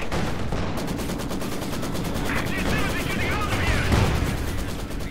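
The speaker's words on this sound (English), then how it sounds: "Gifted pa yung machine gun." Dense, continuous machine gun fire from the World War II strategy game Company of Heroes 2, with sustained rapid bursts and battle noise. Faint voices may sit underneath.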